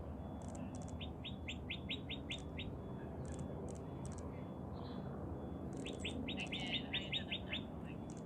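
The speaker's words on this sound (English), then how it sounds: "One of the favorites around these parts is the northern cardinal." Northern cardinal song played back from a recording, two runs of clear, rapid repeated whistled chirps separated by a pause, with a few fainter calls and soft room hiss underneath.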